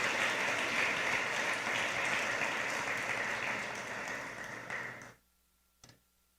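A church congregation claps in praise: a dense, continuous wash of many hands that carries for about five seconds, then stops abruptly. A single faint tap follows in the near silence.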